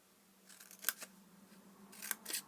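Scissors snip little wedges into paper for a small stamped craft box lid, giving a few soft, close cutting snips in two brief clusters in a quiet room.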